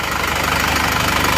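An Isuzu Panther diesel engine idles steadily while warming up, a close, continuous knocking rumble with no voices over it.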